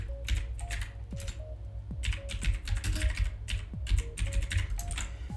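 Rapid typing on a computer keyboard while entering text in Microsoft Word, a steady, close stream of light key clicks that continues throughout.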